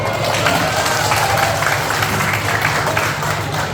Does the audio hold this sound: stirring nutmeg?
no